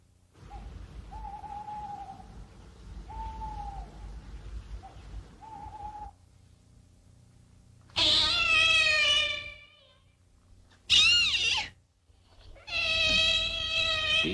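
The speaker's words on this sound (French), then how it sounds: "J'ai eu tout à coup l'impression que ce maudit chat saluait le retour de Madeleine." A cat meows and caterwauls in loud, drawn-out cries, two long wails followed by a short one and a third sustained cry, after a quieter stretch of low ambient sound with faint repeated tones.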